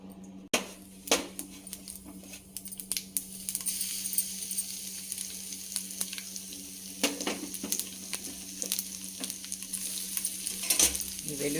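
Garlic, dried red chilli, cumin and mustard seeds fry in hot oil for a tempering, a steady close sizzle with frequent stirring scrapes and small clinks against the pan, with no voices.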